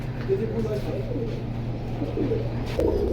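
A large Pakistani breed pigeon at a pigeon sale coos in low, rolling, repeated notes, loud and close, with people talking faintly in the background.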